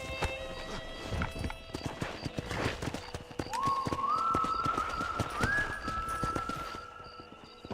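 Horse hooves clip-clop in Red Dead Redemption, a steady trotting rhythm up close, with a high tonal neigh or whistle-like call rising from the middle to the end over the hoofbeats.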